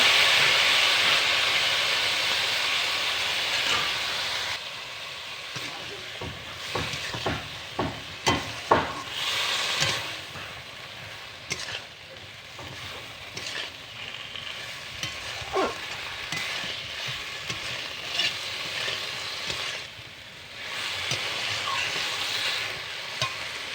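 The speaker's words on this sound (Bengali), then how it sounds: "এবার আমি অল্প একটু জল দিয়ে দেবো মশলাটা কষার জন্য" Spice paste fries in a pan after a little water is added, giving a continuous sizzling hiss with intermittent stirring scrapes and clinks of a utensil, close up, with no talking.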